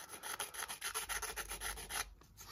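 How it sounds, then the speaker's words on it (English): A small triangular file rubs a burr off a wooden model part, producing quick rhythmic back-and-forth rasping strokes, close but soft, with no voices. "All you want to do is just like take that burr off, and I mean sandpaper would be better for this sort of thing, because this is quite a strange file."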